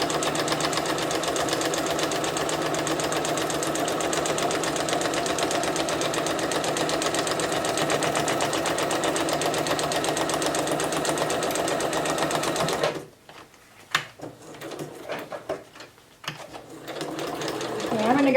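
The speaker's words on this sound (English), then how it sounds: "I'm going to go back just to make sure I lock my stitches down" A sewing machine stitching around a paper scrapbook layout runs in a steady, fast, even rattle for about thirteen seconds, then stops. A few short bursts of stitching follow as the seam is locked.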